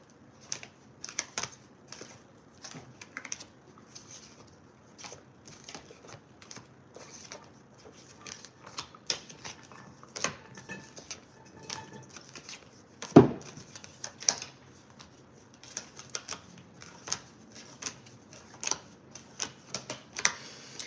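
Tarot cards being shuffled, flipped and set upright on a table, a run of soft scattered clicks and taps with one sharper knock midway, close and quiet, no talking.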